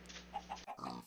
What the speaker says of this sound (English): There's a baby pig over there!